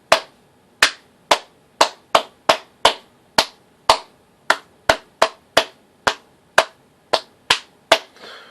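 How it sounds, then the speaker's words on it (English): Single hand claps struck one at a time in an irregular, loose rhythm, about twenty sharp dry snaps, each close and loud with a brief decay into near silence between them. "could it be even a simple clap like"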